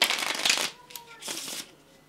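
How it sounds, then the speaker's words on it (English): A deck of playing cards is shuffled during a card-rise magic trick: a dense burst of crisp fluttering riffles, then a second, softer run of card clatter, close to the listener. "And then shuffle the cards."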